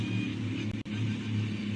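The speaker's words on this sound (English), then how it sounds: "you can hear him kind of slowing down here as he gets ready to pit" A race car in a sim racing game eases off and slows down along pit road, its engine a steady low drone with a brief dip in the sound, close and alone.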